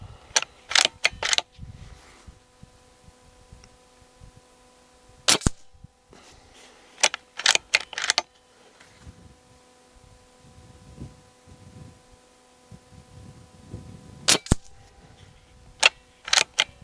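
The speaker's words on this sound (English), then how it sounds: "we'll try and follow up as quickly as possible with these shots in order to minimize the wind drift with the pellets" Aselkon MX10 S air rifle firing pellets outdoors, sharp sudden cracks in small quick clusters with pauses between, each shot followed by faint mechanical clicks and handling, under a steady low hum, no talking.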